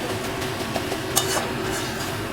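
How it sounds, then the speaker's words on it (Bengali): Note shak greens being fried and stirred in a pan, a spatula scraping and clinking against the metal in quick irregular strokes over a constant sizzle, close and moderately loud. "এবার কিছুক্ষণ ধরে একটু নাড়াচাড়া করতে হবে"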